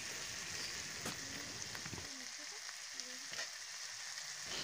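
Ground spice paste goes into a sizzling pan with ginger for a vegetarian cauliflower and potato curry: a soft, constant frying hiss with a slight shift partway as the paste settles in, faint and without voices.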